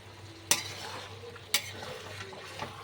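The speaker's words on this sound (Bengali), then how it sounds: "এবার ঢাকনা দেবো না এবার একটু খোলাতেই আমি নাড়াচাড়া করে নেবো" A utensil stirs fish-head chhyachra with softened vegetables in an uncovered pan, giving two sharp metallic clinks about a second apart over a quiet, low sizzle.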